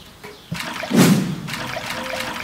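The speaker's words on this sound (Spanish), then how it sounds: "La llenamos de agua y traca atrás." Water sloshes and trickles into a plastic refrigerator drawer being used as a bathtub, swelling into a louder splash midway, then settling into a steady close pour.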